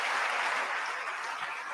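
An audience at a State of the Union address applauds continuously, a dense steady wash of clapping heard from a distance with no clear voices on top.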